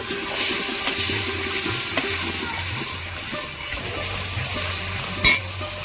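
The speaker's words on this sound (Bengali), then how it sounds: "অল্প একটু জল দেব, মশলা যাতে পুড়ে না যায়।" Spices fry in a pan and sizzle steadily as a little water is added to keep them from burning, with a spoon stirring audibly over a constant hiss, close and fairly loud.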